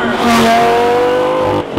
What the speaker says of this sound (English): It's one of the most amazing exhausts ever fitted on a stock car, just with that added whoosh that says, I have 200 extra horsepower.